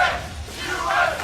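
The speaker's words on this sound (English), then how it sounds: "the crowd chanting USA in the background" A large arena crowd at the 2013 League of Legends World Championship chants USA, a loud rhythmic roar of many voices rising in two surging pulses.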